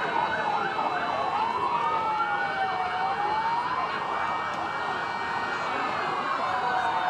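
An ambulance siren at a parade rises and falls in a steady wail, loud and close, with a constant hum of road noise underneath.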